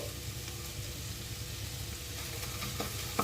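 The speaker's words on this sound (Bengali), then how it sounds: "ভালোভাবে মশলাটা ভেজে নিচ্ছি।" A ground paste of ginger, cumin and green chilli fries in a spoonful of oil, giving a steady, soft sizzle with light stirring throughout.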